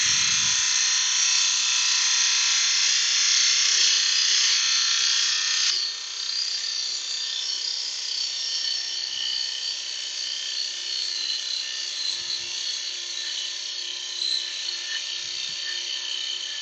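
A dust extractor hums loudly and continuously beside a lathe while a small laburnum bowl is turned, a steady whirring drone with a slight drop in pitch partway through and no voices.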